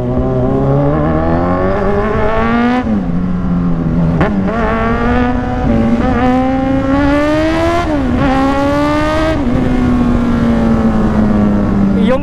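A BYD sports-car plug-in hybrid EV drives with a steady, droning engine note whose pitch rises and falls through gear changes. Music-like harmonics run continuously and loudly with no talking.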